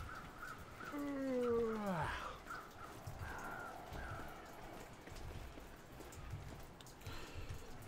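Crows caw in the wintry wilderness of The Long Dark, a few harsh, falling calls close together early on, set against a steady rain-like hiss.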